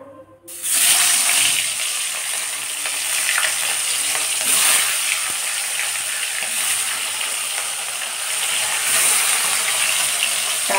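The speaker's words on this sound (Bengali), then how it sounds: "তেলের মধ্যে মাছটা ছেড়ে দিলাম, বড় বড় পিস একদম ভেজে তুলে নেব।" Big pieces of very fresh fish dropped into hot oil, giving a loud, steady, dense sizzle that starts abruptly and continues without pause, with faint clinks on top and no voices.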